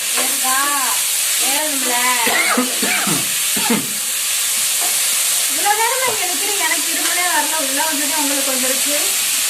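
Potatoes fry in a smoky pan with a loud, continuous close-up sizzle and hiss while people talk over it.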